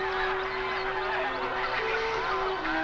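A goose honks repeatedly while held steady for banding, loud nasal calls close by against outdoor background noise, with no talk.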